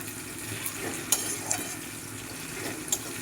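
Tomato and onion masala frying in a pan gives a soft continuous sizzle, broken by a few sharp clinks of a utensil against the pan, with no voices.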